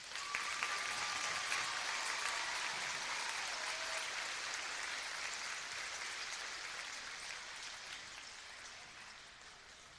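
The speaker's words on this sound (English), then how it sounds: "please give all these people a round of applause." Sustained applause from a large crowd at a high school graduation, a dense, even patter of many hands that slowly fades over several seconds.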